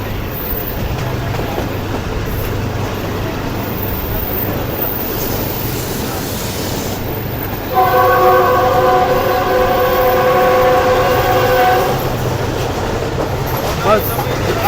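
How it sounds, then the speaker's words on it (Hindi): A packed railcar pulls away from a station during a strike day, a steady rumble of running on the tracks, with a loud tonal horn sounding for several seconds midway and voices in the background. "ट्रेन को रवाना कर दिया गया है"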